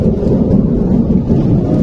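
Low, steady thunder rumbles through a rainstorm over Dhaka, continuous and fairly loud, with rain noise underneath and no voices.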